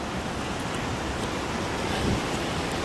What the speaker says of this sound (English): This water loud.